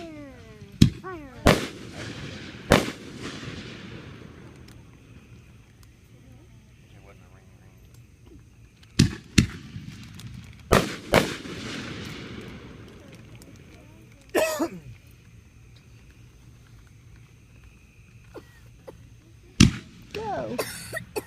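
Fireworks going off outdoors, a handful of sharp loud bangs spread apart in time, each followed by a decaying crackling tail, with faint voices in the quiet gaps.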